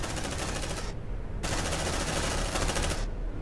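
A sustained burst of suppressive automatic gunfire from the sci-fi game Aliens: Dark Descent. The rapid, loud fire runs almost continuously, broken by a brief gap near the middle and another right at the end.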